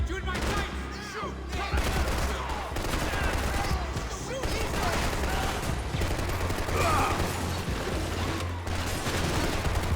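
Dense, continuous gunfire and fusillades fill a Max Payne 3 gunfight, loud and near, with mechanical clacks mixed in and a voice briefly heard amid the shooting.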